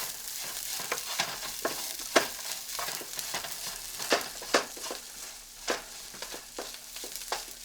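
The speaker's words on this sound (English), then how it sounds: "So we're going to add our bacon mixture. Give it a good stir." Bacon mixture stirred into potatoes frying in a pan for breakfast burritos, with a steady sizzle under repeated scraping clacks of a utensil against the pan, close and moderately loud.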